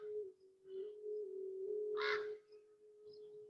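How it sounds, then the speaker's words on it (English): Birds calling outdoors during a quiet yoga session, with a few sharp crow-like caws over a steady low hum, fairly faint and spaced apart. "As you continue to hear the sound of the birds"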